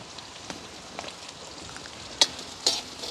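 Green chillies sauté in a pan for egg kottu, a soft steady crackle of frying with a couple of sharper scrapes or clinks near the end, close and fairly quiet, with no talking.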